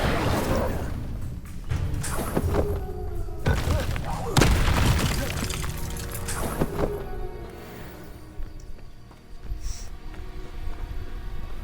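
Incendio fire spell cast in Hogwarts Legacy, a booming whoosh with crackling impacts amid continuous dense game noise and combat effects, loud and close throughout.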